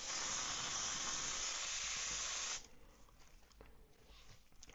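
Airbrush spraying paint onto a 3D printed brown trout bait, a steady airy hiss for about two and a half seconds that then cuts off, leaving faint quiet background.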